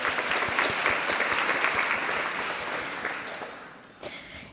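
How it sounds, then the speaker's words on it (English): Conference audience at a global gender and environment gathering breaks into steady applause, a dense wash of claps that gradually thins and fades out near the end. "let's give everyone a round of applause."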